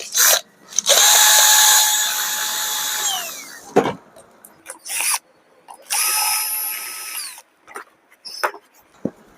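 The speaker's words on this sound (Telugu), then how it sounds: "ఈ నాలుగు నట్లు ఇప్పేసాం ఫస్ట్ పైన తర్వాత కింది భాగం ఒక అట్ట ఉంటుంది అది కూడా ఇప్పేస్తాం అనమాట" A power tool whirs in two long bursts with short clicks and knocks between them as nuts are taken off while a microphone unit is dismantled; no voices.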